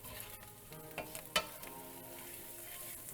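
Spiced chickpeas and carrots sizzle quietly in a pan while a spoon stirs them, with a few scraping knocks and one sharper clink against the pan.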